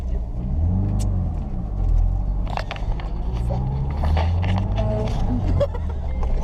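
Car driving through heavy New York traffic near the Lincoln Tunnel, a loud steady engine and road rumble from inside the cabin, with passing vehicles and faint clicks over it.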